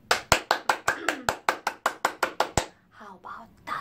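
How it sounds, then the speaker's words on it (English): Children clapping loudly in unison during a music lesson, a steady run of about a dozen sharp, evenly spaced claps, each one crisp and close, then a quieter patch with a voice speaking. "Can you give me loud forte clap?"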